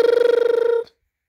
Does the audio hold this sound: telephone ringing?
yes